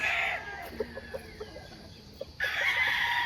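Gamefowl, including a wine-red straight-combed rooster, sound off nearby: a crowing burst opens and closes the moment, with soft, scattered clucks in between.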